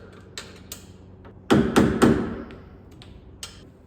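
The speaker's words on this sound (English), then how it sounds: "I can hopefully hammer the screwdriver in here" A hammer drives a screwdriver to seat the shaft on a new steering rack of a BMW E36 Z3: a few light taps, then three loud, close metallic blows in quick succession and one softer tap after.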